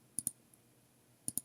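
Two quick double-clicks of a computer mouse on an icon, crisp and close, separated by about a second of quiet room tone.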